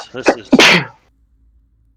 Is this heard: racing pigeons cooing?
no